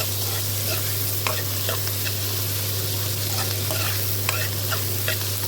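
Onions fry in a pan until golden brown for a curry, with a continuous sizzle and scattered scraping stirs. A low steady hum runs underneath.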